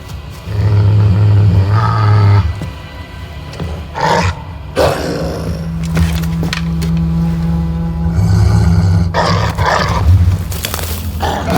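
A pup growls in Assassin's Creed Valhalla with loud, deep, rumbling snarls that come in sustained bursts with short breaks, over game ambience.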